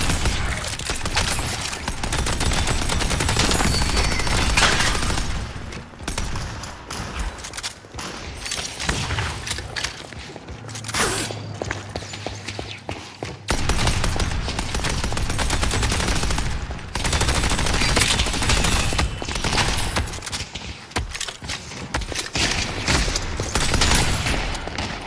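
Sustained rapid turret gunfire rattles almost continuously in a Deadlock match, loud and dense, with a brief lull midway before the automatic fire resumes, and no talking.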